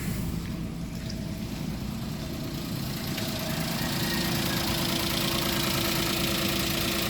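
A Toyota Wigo's engine runs steadily at idle after being restarted, a continuous close low hum and rumble with no voices.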